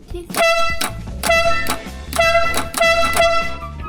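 Loud tractor air horn blasts ring out close by in a quick rhythmic pattern of several short, blaring honks.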